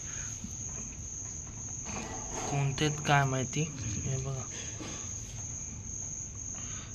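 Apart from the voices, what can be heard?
insects chirping at night during monsoon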